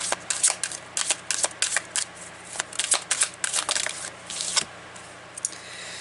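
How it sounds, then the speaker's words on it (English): A deck of Archangel oracle cards being shuffled by hand, a quick run of crisp riffling flicks and soft slides in irregular bursts, close and fairly loud with no talking. "I'm going to pull an Archangel card to see again who we have here as well."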